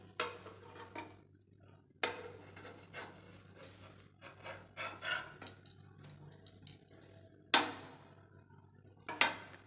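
Egg-coated bread toasts in a pan with a faint, patchy sizzle, broken by irregular scrapes of a spatula and two sharper clatters of utensil against the pan, with quiet gaps between.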